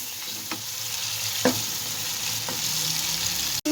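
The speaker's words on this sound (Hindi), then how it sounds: "चिकन की हम कर लेंगे बहुत ही अच्छी तरह भुनाई" Chicken fries in a pan with a bright, continuous sizzle, while a utensil stirs it with several scraping clicks and a sharp knock at the end.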